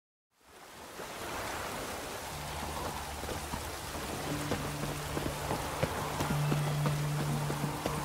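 Steady rain in The Witcher 3: Wild Hunt, a dense, continuous hiss of falling drops. It fades in and holds throughout, with a faint low hum and scattered soft taps beneath.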